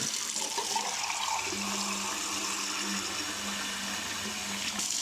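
Tap water runs steadily into a kitchen sink to cool freshly boiled eggs, a continuous gentle hiss and splash with a faint low hum underneath, no talk.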